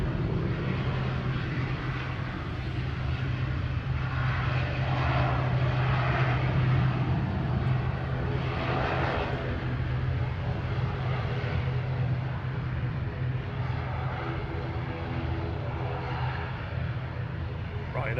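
A Ryanair Boeing 737 Max 8 departs Manchester Airport, its jet engines giving a loud sustained roar with a steady low drone that swells and holds throughout.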